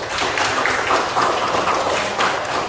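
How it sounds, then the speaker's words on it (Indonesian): A classroom of students breaks into applause, a dense, steady wash of clapping at close range lasting a few seconds without a clear rhythm. "Tepuk tangan dulu."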